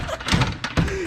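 A worn metal drawer of a U.S. General tool box is pulled open in a few scraping, thumping bursts, with metal sliding and a clunk close by.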